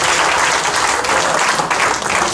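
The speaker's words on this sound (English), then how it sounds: "let's clap hands for Jesus" Church congregation clapping hands during a fitness and health session, a loud, dense wash of applause filling the whole short stretch without any clear speech.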